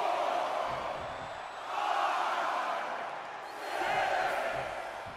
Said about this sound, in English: get pumped off of this crowd's incredible energy